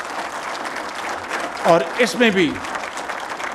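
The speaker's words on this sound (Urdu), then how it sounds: "میری گزارش ہے کہ ان کے لیے بھرپور تالیاں لگائیں" An audience at the Prime Minister's electricity price announcement claps for the negotiating team; the applause is a dense hiss under someone speaking over it.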